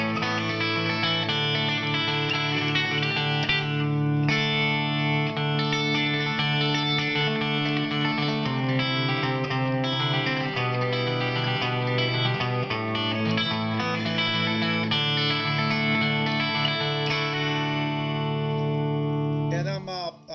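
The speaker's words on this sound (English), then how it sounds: "I'm playing this through a Fender Deluxe Reverb with a silver jangle box" A Rickenbacker V1964 360/12 twelve-string electric guitar plays jangly chiming chords through a Fender Deluxe Reverb amp with a silver jangle box, ringing and shimmering continuously, close and loud, with a final strum dying out.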